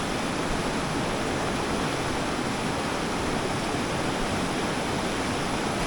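A mountain river rushes beneath a peak after floods, a steady, loud, unbroken roar of water with no voices.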